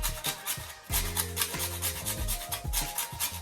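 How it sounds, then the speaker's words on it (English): Rhythmic rasping of a whole nutmeg rubbed against a grater for Jamaican Christmas fruit cake, close scraping strokes repeating steadily, with a tonal hum in the background and no talk. "now I'm just going to grate my nutmeg"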